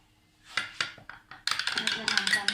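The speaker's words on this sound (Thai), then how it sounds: "คนค่ะ" A spoon clinks repeatedly against a glass while stirring a Thai pink milk drink made with hot water. A few separate taps come first, then rapid, dense, bright scraping clinks close up.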